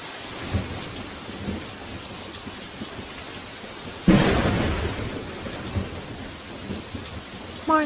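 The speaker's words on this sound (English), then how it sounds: "More lightning, Chief." Steady heavy rain pours throughout an anime film storm, with a sharp, loud thunderclap crashing in about halfway and rumbling on beneath the downpour; no one speaks.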